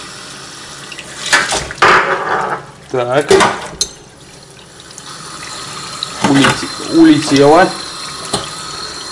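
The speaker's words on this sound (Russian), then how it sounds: "оттуда идет горяченнейшая вода" Hot water gushes and splashes steadily from a pump hose on a RIMS home-brewing setup in the background while people talk in short bursts nearby.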